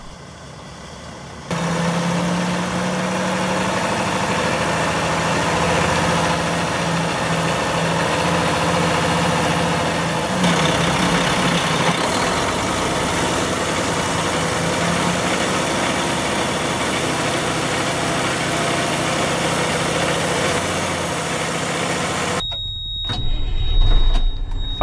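Diesel engine of a 2004 Mack CX613 truck with a sliding fifth wheel and PTO idling steadily and loudly close by after a start-up, a steady rumble until a brief clatter at the very end.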